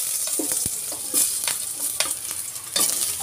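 Garlic sizzles steadily in a hot pan for a home-cooked rainy-day dish, with occasional stirring scrapes and soft clatters over the continuous frying hiss; close and moderately loud, no talking.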